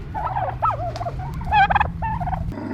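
A turkey gobbles in several rapid, warbling bursts over a steady low background rumble, fairly close and loud, with no voices.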